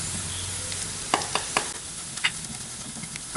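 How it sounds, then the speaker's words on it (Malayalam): Cashews and Kashmiri chili powder sauté in a pan for butter chicken, giving a constant sizzle dotted with quick scraping stirs and light utensil taps, close and without speech. "നമ്മളിത് വഴറ്റി കാഷ്നട്ടെല്ലാം ചെറുതായിട്ട് ഒരു ബ്രൗൺ കളർ വന്നു തുടങ്ങി"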